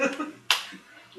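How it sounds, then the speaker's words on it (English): A single sharp hand clap or snap cuts through conversation, close and brief, with people talking before and after it. "he's clapping"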